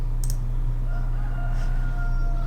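Chickens and a rooster in Farming Simulator 17, with a short crowing burst near the start and soft clucks over a steady low engine-like drone that runs through the whole stretch.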